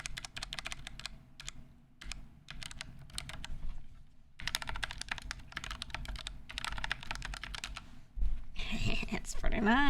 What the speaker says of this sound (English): It's a very warm, soft click, but it feels tactile